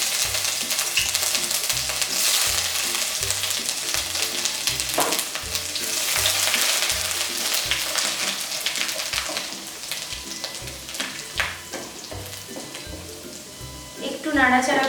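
Chopped ginger and garlic frying in three tablespoons of hot oil in a pan, a dense close sizzle with stirring scrapes toward the end, under a rhythmic background music beat.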